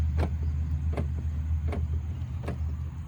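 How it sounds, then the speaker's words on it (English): Door locks of a Lexus LS 430 clicking open as comfort access senses a hand on the handle: five sharp, evenly spaced clicks roughly every half second over a steady low hum of nearby traffic. "I don't know why it unlocked a million times, but the car senses your hand when you touch the inside of the handle."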